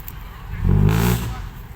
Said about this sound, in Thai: มาแล้วครับ รถไถแท็กเตอร์คูวต้า L5018